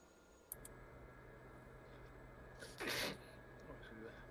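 A single short sneeze from a person, fairly quiet and sharp near the three-second mark, surrounded by faint room noise and brief talk.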